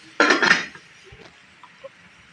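A metal lid clatters onto a cooking pot with a brief ringing clank, followed by quiet kitchen sounds and a faint clink.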